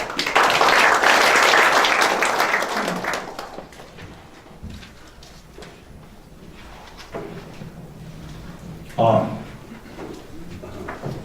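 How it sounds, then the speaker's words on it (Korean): A Korean political gathering opens with a burst of loud audience applause welcoming a lawmaker to the stage, the dense clapping fading after about three seconds into quieter room noise and scattered thuds. "큰 박수로 맞이해 주시기 바랍니다."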